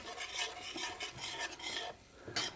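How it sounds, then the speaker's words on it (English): A butter and flour roux being stirred in a pan while it lightly browns for a beer brat cheese sauce: close, continuous scraping and rubbing strokes with a soft sizzle, with a brief pause before a final stroke. "We're just going to lightly brown our roux."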